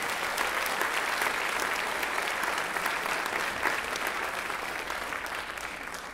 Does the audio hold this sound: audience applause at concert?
yes